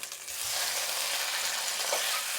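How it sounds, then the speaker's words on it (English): Loud, steady sizzling of chicken searing in hot lard, close up and continuous, with no voices. "You wanna hear that good sizzle?"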